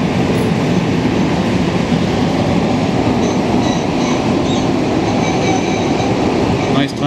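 A Montreal STM MR-63 metro train runs with a steady, loud, continuous roar, faint squeals and rail clatter layered on top. The noise holds constant throughout and drops slightly at the very end.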